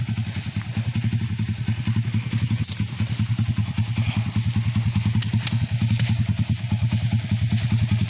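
A motorcycle engine chugs and revs steadily while riding through deep mud, with a close, continuous pulsing throb and occasional clattering, loud and unbroken throughout.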